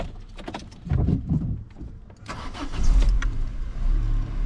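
An auction-bought car's engine cranks over with a few quick bursts, then catches and settles into a steady, close idle rumble with no talk.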